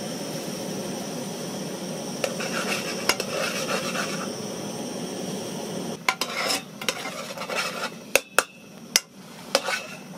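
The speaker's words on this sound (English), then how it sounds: "In goes the oatmeal." Oatmeal being stirred into boiled water in a pot in an off-grid Arizona tiny cottage, with a continuous soft simmering wash and then several sharp metallic clinks of a spoon against the pot.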